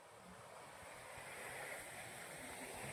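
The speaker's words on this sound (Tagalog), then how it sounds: "malakas yung alon na nakikita ninyo ngayon" Faint, steady rush of strong ocean surf at Patapat, Cagayan, with a windy hiss, waves washing continuously in the distance.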